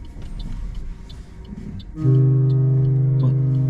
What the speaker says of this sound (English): Oh, foghorn.